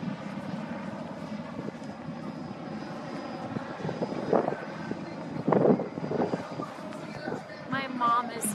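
A police helicopter drones overhead at a protest arrest in North Dakota, a steady rotor and engine hum under bursts of nearby talk and crowd noise.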